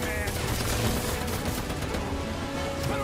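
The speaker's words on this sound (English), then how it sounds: "Who's shooting at me?" Dense, continuous gunfire bursts and crashes from the Spider-Man 2 video game, loud and sustained throughout, with a voice briefly heard over the shooting.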